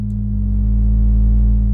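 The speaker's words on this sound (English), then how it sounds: "Now you'll see we're in vintage mode, that's why we're getting that kind of gnarly warmth" Sustained synthesizer oscillator tone on a SonicLab & Hainbach Fundamental in vintage mode, a warm, gritty, steady drone with a stacked low harmonic buzz that holds loud and even, with no voices.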